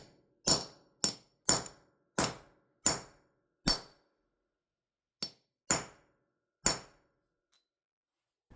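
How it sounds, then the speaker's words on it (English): A setting tool is hammered to expand a cement anchor in a concrete floor, for bolting down a Harbor Freight tire changer. About nine loud, sharp metallic strikes ring out at uneven intervals, each decaying quickly into silence. "Now I'm going to be using the tool that expands the bottom of the cement anchor and holds it in place."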